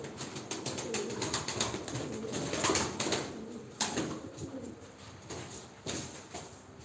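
Tumbler pigeons coo during a live bird auction, soft repeated throaty coos with scattered flutters and clicks, fairly faint and close, with no talk over them.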